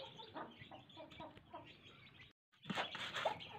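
Hens with chicks cluck softly and repeatedly at close range, a brief silence, then more clucking with a few sharper calls.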